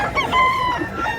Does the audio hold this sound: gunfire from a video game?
no